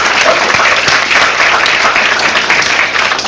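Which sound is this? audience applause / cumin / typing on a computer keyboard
audience applause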